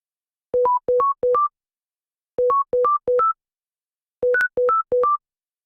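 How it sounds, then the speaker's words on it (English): A short, pure sine-wave synth plays a lead melody in three repeated phrases, each a quick run of clipped, plucky tones stepping upward, clean and isolated with silence between phrases. "it's just a simple, very short sine wave"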